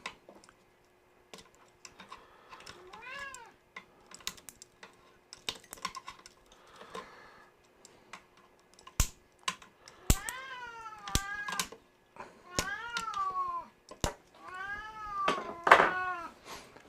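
A cat meows repeatedly in a workshop where expensive equipment is being taken apart, several rising and falling cries that grow louder and more frequent, mixed with sharp clicks and taps nearby.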